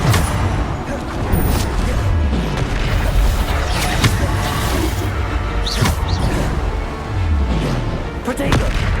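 In Hogwarts Legacy combat, the Bombarda spell lets off deep booming explosions that land several times in a loud, busy battle mix, while a person calls out spells throughout.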